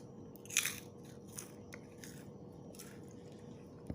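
A sharp crunchy bite into crisp roasted lotus seeds followed by a few softer chewing crunches, close and quiet over low background hiss.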